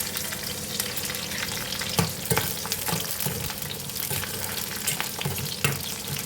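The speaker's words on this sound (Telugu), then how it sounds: "ఇప్పుడు ఆయిల్ వేడెక్కిపోయిందండి. ముందుగా పచ్చిమిర్చి వేసుకుందాము." Green chillies fry in hot oil for a South Indian roti chutney, giving a steady dense sizzle with occasional sharper crackles and stirring scrapes, close and continuous with no voices.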